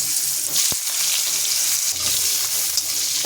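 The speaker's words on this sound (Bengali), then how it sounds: "সবজিটা এখন একটু আমি ভেজে নেব, আলগা ভাজবো, একদম কম শুধু পটলগুলি আগে ভেজে নেব।" Pointed gourd (potol) frying in a pan gives a steady, close sizzle with soft crackles and a brief stir or clatter, with no voices.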